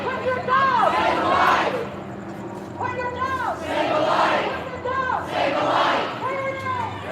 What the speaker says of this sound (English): You hear people in the crowd, they're saying losers.